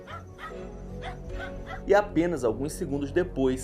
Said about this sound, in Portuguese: é possível ouvir os cães latindo desesperadamente para algo que está escondido nas